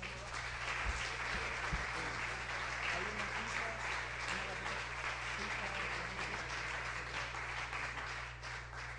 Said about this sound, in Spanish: Denle fuertes palmas al Señor.